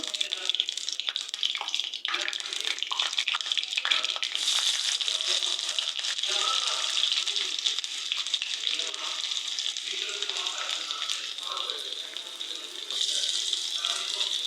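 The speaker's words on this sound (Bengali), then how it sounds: "এই যে কড়াই বসাই দিছি চুলাই দিয়ে তেল দিয়ে দিছি দেওয়ার পরে এখন আমি পেঁয়াজ কুচি গিলে দিয়ে দেবো" Chopped onion frying in hot oil in a wok, giving a steady, close hiss and crackle that runs throughout with little change.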